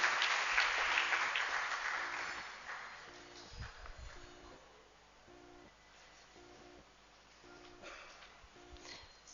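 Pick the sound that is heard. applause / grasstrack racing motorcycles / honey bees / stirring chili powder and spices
applause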